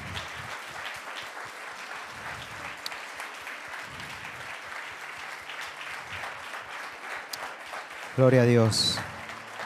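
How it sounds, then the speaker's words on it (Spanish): Church congregation breaks into applause during an evangelical sermon, a steady dense clapping that runs under a preacher's amplified spoken praise, swelling louder near the end. "Si ese aplauso es para Dios, dáselo fuerte"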